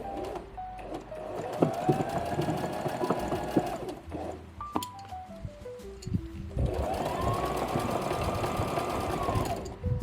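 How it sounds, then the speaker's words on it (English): A domestic sewing machine stitches a seam on a cotton T-shirt, two sustained runs of fast whirring stitching separated by a short pause, close and steady with no voices. "Hold them at the back of my machine like this every time I start a new"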